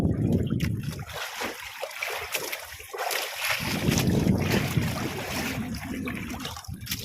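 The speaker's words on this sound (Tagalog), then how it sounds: "Maririnig yung mga kasagwan yung hampas ng ano namin katigo. Malaki talaga yung alon." Paddles splash and large waves slap against the outrigger of a small fishing boat out at sea, a continuous rushing, sloshing water sound with irregular bursts, fairly close, without talk.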